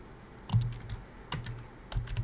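A computer keyboard used to type a terminal command, with a few quiet, close keystrokes landing in small irregular clusters.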